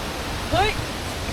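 A waterfall near Sendai, Japan, gives a steady, even rush of broadband water noise, with one brief, high chirp-like call cutting through it near the middle.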